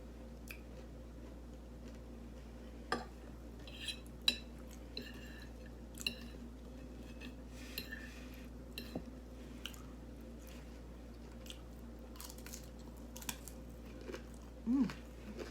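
Someone eats breakfast bacon up close, with quiet wet chewing and scattered soft crunchy bites, faint over low background hum.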